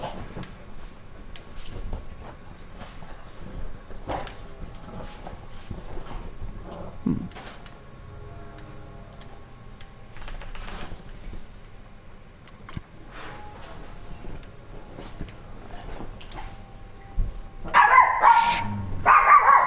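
Small pet dogs in a room let out scattered barks and yips, some sharp and close, between quieter stretches, and a louder burst of barking comes near the end.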